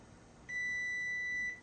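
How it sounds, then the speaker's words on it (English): A kitchen timer gives a single steady electronic beep, high-pitched and clear, holding for about a second against a quiet background. "Timer's off."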